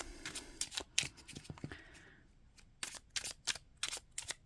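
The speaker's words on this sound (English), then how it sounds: "you would shuffle your tarot deck of choice" Tarot cards are shuffled by hand in quick, crisp bursts of riffling and snapping, with short pauses between handfuls, close and fairly quiet.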